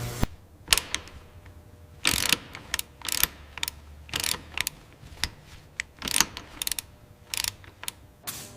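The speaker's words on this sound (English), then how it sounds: "Honing the massive bores" Honing the large steel cylinder bores of a WWII fighter plane's aircraft engine, heard as a series of sharp, irregular scraping and clicking bursts spaced through a quiet workshop, with brief metallic rasps between.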